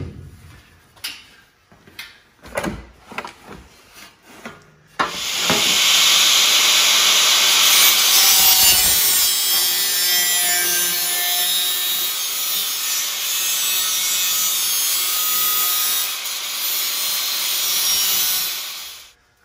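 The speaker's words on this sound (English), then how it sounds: "All right, so we cut in our two slits right now." Two slits are cut into a VW Bus radiator mounting during a Subaru engine swap. A few sharp knocks come first, then a loud, continuous hissing grind runs for about fourteen seconds before stopping.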